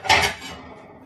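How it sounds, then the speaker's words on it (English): A plate taken from a stack in a kitchen, a quick double clatter of ceramic dishes up close, then quiet. "Let's get a plate."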